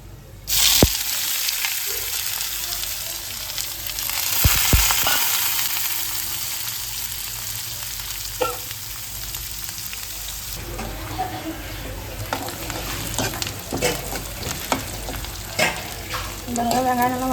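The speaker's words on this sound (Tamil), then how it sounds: "வெங்காயம் நல்லா வதங்கிடுச்சு." Onions sauté in a pan for a Tamil manathakkali keerai poriyal, sizzling steadily while a spoon scrapes and stirs in repeated bursts, close and fairly loud.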